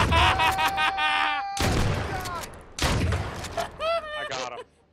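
Gunfire in the survival game H1Z1 breaks out in loud, rough bursts, one big volley early and another a moment later, mixed in with people talking over voice chat.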